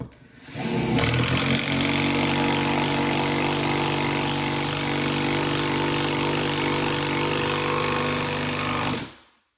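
A RIDGID R8224K power tool drives star screws with a loud, continuous hammering rattle that starts after a second and runs for about eight seconds before stopping abruptly, close and harsh.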